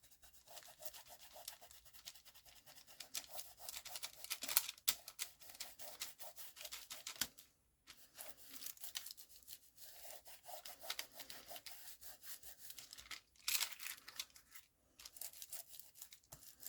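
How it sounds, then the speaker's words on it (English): A finger burnishes embossed paper down in a papercraft project, giving soft, close rubbing and scratchy friction strokes in irregular bursts with brief pauses. "just use my finger to burnish this all down"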